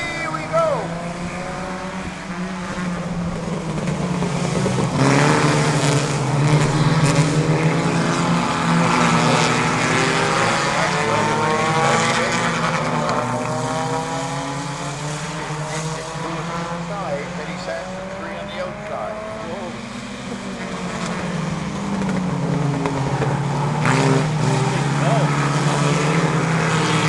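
Race cars rev and pull away at the start of a Lightning Bug qualifier race, engines droning loud and steady with rising and falling pitch sweeps for the whole stretch.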